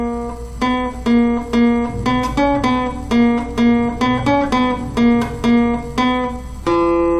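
Ode to Joy is fingerpicked on two strings of a guitar as a slow, steady run of single plucked notes in a clear rhythmic line, each note ringing briefly, then ending on a longer held note.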